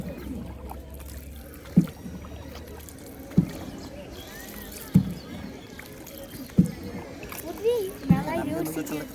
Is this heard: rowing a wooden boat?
yes